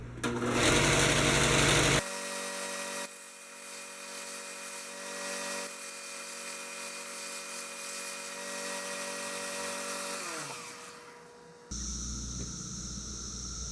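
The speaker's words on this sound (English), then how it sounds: "I'm going to use this sander to remove the burrs from where I made the holes bigger." Power sander removing burrs from enlarged holes on a 1957 Bolens No. 2 tractor part: a sustained, fairly loud motor whine with a buzzing grind that shifts in pitch and load, briefly winding down before a final burst.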